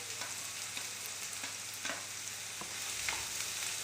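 Green chilies, coriander and curry leaves sauteing in a pan, a dense, even sizzle with periodic stirring scrapes, close and steady with no voices.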